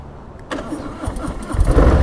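A 2020 Harley-Davidson Softail Slim motorcycle engine cranks and catches close by after a brief quiet start, then settles into a loud, deep, rumbling idle.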